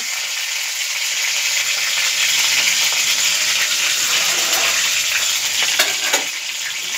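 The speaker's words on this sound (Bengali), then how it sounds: "হালকা করে নাড়বো, টমেটোটা একটু গলে যাবে, দেখবে হালকা করে নাড়বো।" Tomatoes and ginger fry in a pan with a loud, constant sizzle and the occasional scrape of gentle stirring.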